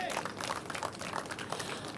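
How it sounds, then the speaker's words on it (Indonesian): Audience clapping at a talk show, a steady dense patter of many hands filling the room with crowd noise throughout, fairly distant and even. "tepuk tangan dulu untuk itu"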